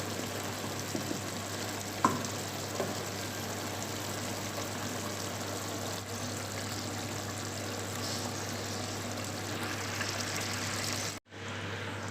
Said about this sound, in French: je diminue le gaz et je laisse les légumes cuire doucement